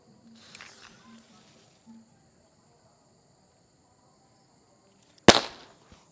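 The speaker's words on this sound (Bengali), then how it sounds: "তো দেশলাই বমের কেমন ধামাকা দেখতে থাকো" A match bomb firecracker bursts once with a single sharp, loud crack, followed by a brief crackling tail. Faint insect chirping and scattered quiet sounds come before it.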